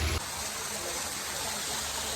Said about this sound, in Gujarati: આટલો ધોધ પડે છે